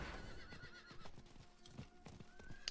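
A horse in the Diablo 4 video game gallops with rapid clip-clop hoofbeats and whinnies over a busy game soundscape, with several short tonal game effects layered on top.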